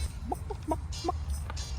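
Chickens cluck in short, separate bursts near the listener, against a low steady rumble of background noise.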